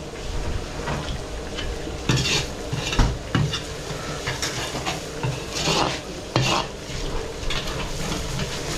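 Garlic and chili stir-fried in a pan, with a steady sizzle, scraping stirring strokes and occasional clinks of utensil on metal, fairly close and without talk.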